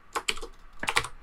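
Quick typing on a computer keyboard, two short clusters of crisp, close key clicks with a brief pause between them.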